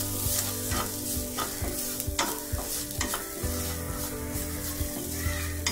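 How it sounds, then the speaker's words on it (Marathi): Onion sautéing in a pan with turmeric, chilli powder and garam masala, a bubbling sizzle under repeated scraping and stirring strokes of a spatula, with a low steady hum behind. "हळद घालूया, मिरची पावडर, गरम मसाला थोडा परतून घेऊया"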